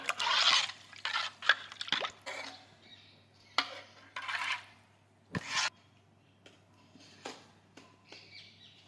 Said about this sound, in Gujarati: હવે પાણી છે તેને મિક્સ કરી દઈશું.